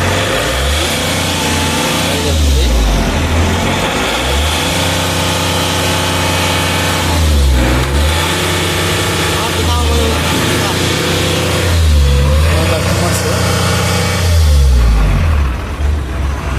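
Diesel engine of an Ashok Leyland Dost pickup, which has fault codes P1121 and P0222, running loud and close with several rising revs and drops back to idle, and a voice speaking over it.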